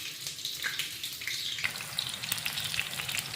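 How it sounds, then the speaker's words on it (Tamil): Bajji fritters frying in oil over a low flame, a continuous bright crackling sizzle with small popping bursts that thickens after a moment, close and fairly soft. "பஜ்ஜி வெந்துக்கிட்டே இருக்குது"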